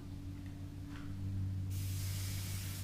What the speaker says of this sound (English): I'm going to hairspray them because they don't have as much product on.